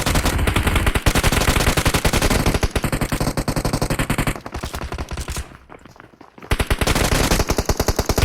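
Rapid bursts of UMP9 submachine gun fire from the BGMI mobile battle royale game rattle loudly and nearly continuously, with a short lull before the shooting resumes at close range.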